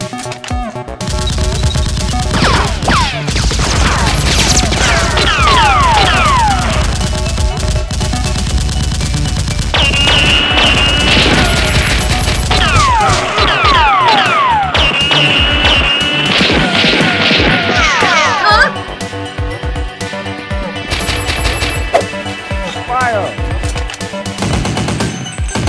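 Dense, loud bursts of rapid gunfire and crashing impacts fill a staged Nerf gun battle in an action film, continuous and chaotic with overlapping shots and sweeping effects.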